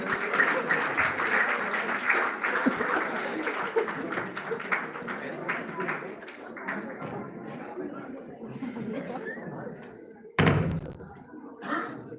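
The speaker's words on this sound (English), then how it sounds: "A huge round of applause for her." Audience applause at a school award ceremony in Kareli, a dense sustained clapping that fills most of the stretch before a brief dip and a final burst near the end.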